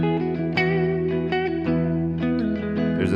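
An electric guitar with effects and reverb plays single sustained notes around the third of a major pentatonic scale, several plucked tones ringing in a steady sequence, clean and close with no talking.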